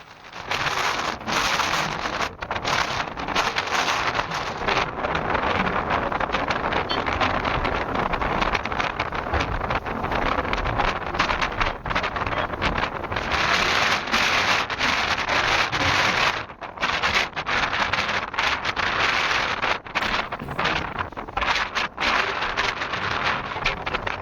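Strong sand-laden coastal wind at Dhanushkodi roars steadily and loudly, buffeting the microphone with continuous gusty noise and no voices.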